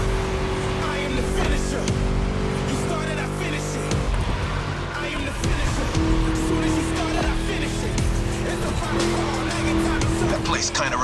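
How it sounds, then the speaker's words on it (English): A Ford Mustang V8 races around a track in The Crew Motorfest, its engine droning loud and continuous with a steady mid-pitched tone and a brief tire squeal, while a voice talks over it. "Just listen to that V8 like a chonky, down-tuned guitar riff"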